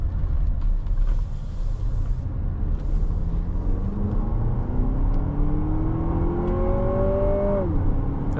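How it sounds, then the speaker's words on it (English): A 2025 Lexus RX 350 Premium under full-throttle acceleration, heard from inside the cabin: steady road roar with engine tones climbing in pitch through a long pull, then dropping at a gear change near the end. "this is foot to the floor acceleration"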